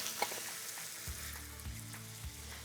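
Fire-roasted canned tomatoes and beef stock sizzle in a hot pan for a thick stew: a steady, close crackling hiss with a few dull low thumps from the pot.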